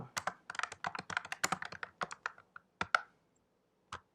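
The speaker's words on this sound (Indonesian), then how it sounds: "kita ketikkan aja sudo systemctl restart apache 2." Rapid, close keyboard typing of a Linux command to restart the Apache web server, with bursts of quick keystrokes, a brief pause, then a few isolated final taps.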